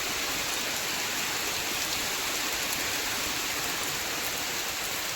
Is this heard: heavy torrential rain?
yes